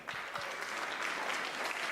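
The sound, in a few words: audience applause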